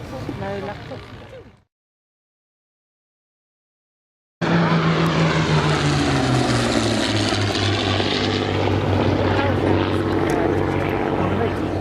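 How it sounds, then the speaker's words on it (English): Hurricane Mark II and blue photo-reconnaissance Spitfire propeller warbirds at a Battle of Britain memorial airshow in Shoreham, 2011. After a brief silence a loud, steady piston-engine drone sweeps past with a shifting pitch. Faint talk comes before the gap. "The PR Spitfire in that lovely blue colour scheme."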